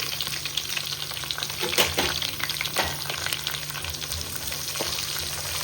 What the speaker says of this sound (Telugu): ఇప్పుడు ఈ ఉల్లిపాయలు బాగా ఫ్రై అవ్వాలి.